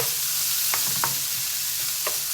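Pork belly fries in a pan for a few seconds, a steady hiss and sizzle with a few short scraping stirs on top, and no talking.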